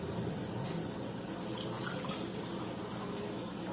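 Steady rushing water, one and a half cups, pours continuously into a pot for a few seconds, close by, with no talking.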